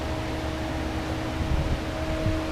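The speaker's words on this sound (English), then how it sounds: "it's raining, and it's raining hard too." Heavy rain falls as a dense, steady wash of noise outdoors, even and close with no talk, broken only by a faint low hum.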